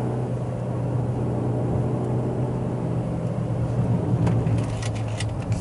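A manual car's engine humming steadily at moderate revs just after an upshift from 5,000 RPM, a low drone with road noise while cruising toward a roundabout.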